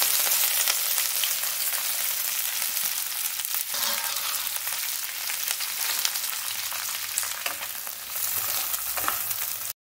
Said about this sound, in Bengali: তো তেলটা আমার গরম হয়ে এসছে, এই গরম মশলাগুলো দিয়ে দেবো। দিয়ে এখানে পেঁয়াজগুলো আছে, পেঁয়াজগুলো আমি দিয়ে দেবো।